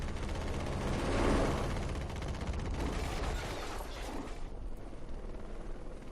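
A recon helicopter in the Vietnam-era game Choppers Over 'Nam (Heliborne) flies with a steady, loud rotor drone and whine that fills the whole stretch and eases slightly toward the end, with no talk over it.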